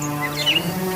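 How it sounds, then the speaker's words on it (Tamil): Sparrow chicks give a few brief, thin high chirps as a radio drama sound effect, faint over a steady low hum, with no voices. "அந்த குருவி குஞ்சுகளின் கீச்சிடும் ஒலிகள்"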